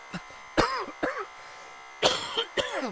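A series of sharp, harsh coughs in bursts, close by, with short pauses between them and no talking.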